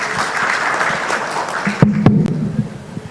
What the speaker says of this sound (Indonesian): Tepuk tangan dulu untuk Pak Anton.